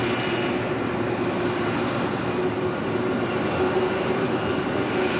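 An Emirates jet airliner taxis across runway 25 Left at Los Angeles International Airport, its engines giving a steady, loud broadband roar with a faint whine that holds constant throughout.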